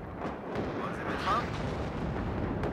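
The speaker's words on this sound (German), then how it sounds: "God, that artillery can fire from so far." Artillery in the Warno strategy game firing from long range, a few dull booming thuds over a rumbling battlefield bed, with a voice talking faintly underneath.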